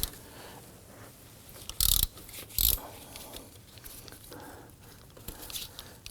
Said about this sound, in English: I'm going to go ahead and use my regular ratchet with this one to break this one free.